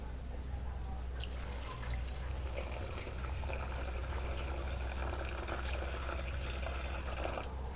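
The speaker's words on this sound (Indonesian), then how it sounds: "Setelah kita masukin bekatul ke kuali, lalu kita tambahkan air ya teman-teman ya." Water pours into a wok holding rice bran being mixed as chicken feed, a steady close trickling and splashing that runs throughout without a break.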